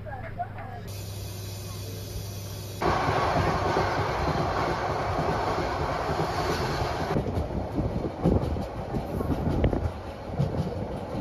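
Inside a carriage of the Parjatak Express running from Dhaka to Cox's Bazar, a steady loud rumble of the moving train fills the space, growing heavier partway through with rhythmic rattling and clatter.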